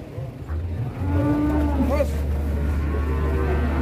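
A very thin cow on an Indonesian farm gives a long, loud, deep moo close by that holds steady for several seconds, with a faint voice briefly underneath.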